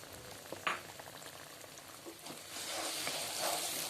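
Semolina sizzles in ghee in a pan over a medium-low flame for a sweet halwa, with a steady frying crackle that swells louder and denser in the second half, with no talking.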